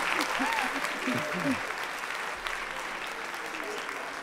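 Studio audience applause at an Italian podcast taping, a steady wash of clapping running the whole stretch, with voices and laughter audible over it early on.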